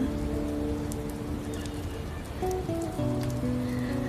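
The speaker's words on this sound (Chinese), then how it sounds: "这雨真好。" Steady rain falls and patters on surfaces, a continuous close wash of drops with a faint sustained tonal background.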